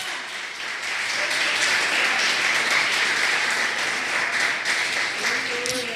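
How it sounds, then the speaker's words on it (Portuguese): A church congregation applauding during a sermon, steady crowd clapping swelling after a second and holding throughout, with speech faintly underneath and a voice rising near the end. "aplauda ao Senhor"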